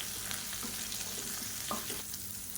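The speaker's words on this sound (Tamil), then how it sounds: "இது எல்லாத்தையும் வதக்கி விட்டுக்கலாம்." Red chillies, green chillies and turkey berries being sautéed in a pan for chutney, with a steady soft sizzle and occasional spoon stirring scrapes throughout, fairly quiet and close.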